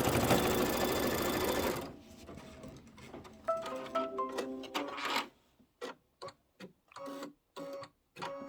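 A sewing machine stitches fabric for a pillow, first in a fast continuous whir, then in short stop-start runs of rapid needle ticking, close and clear with no talk.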